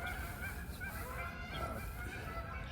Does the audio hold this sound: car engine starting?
no